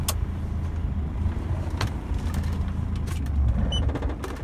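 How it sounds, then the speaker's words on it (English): Steady electronic beeping from a GPS unit inside an idling HGV truck cab, short high tones, mostly late and fairly faint over the low engine rumble and cab noise. "the fucking GPS thing's beeping now"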